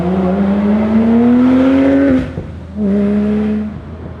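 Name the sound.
Porsche 997 GT3 driving with valveless straight exhaust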